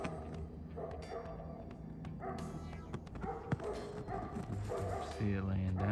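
Dogs bark and yip at a moose in the Alaskan woods, sharp scattered barks and whines at mid distance with a person talking over them throughout.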